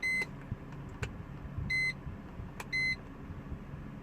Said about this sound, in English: if you hear that beep